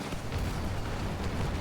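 Rocket fire and blasts in a shooter video game form a dense, continuous rumbling roar with no distinct separate booms, loud and steady throughout.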